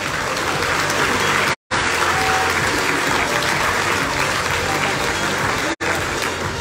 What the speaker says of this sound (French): Vous pouvez l'applaudir très fort, s'il vous plaît.